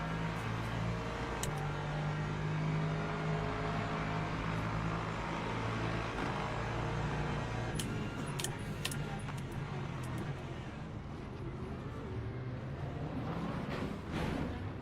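Race car engines in the Le Mans Ultimate sim at a green-flag start, including a Lexus, roar as a continuous loud drone with shifting engine tones and a few sharp clicks, no talking.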